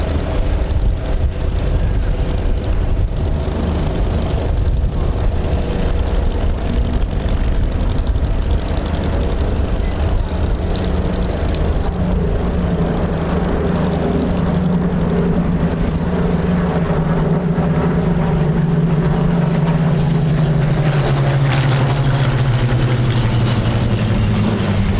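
A Spitfire Mark 9 fighter with a Merlin 66 engine flies past at an airshow, its loud propeller drone filling the air continuously and shifting pitch downward as it passes.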